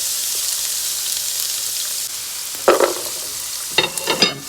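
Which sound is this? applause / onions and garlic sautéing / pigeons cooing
onions and garlic sautéing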